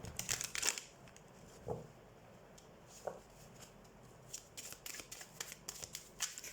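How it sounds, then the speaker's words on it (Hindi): Tarot cards being shuffled by hand for a full moon reading, giving soft papery riffles and flicks in irregular bursts, quiet and close with no talking. "तो सबसे पहले हम कार्ड शफल कर लेते हैं।"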